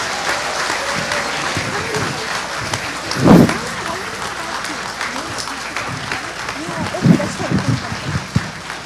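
Audience applause at a school annual day, loose clapping under a voice speaking, with a couple of louder close bursts.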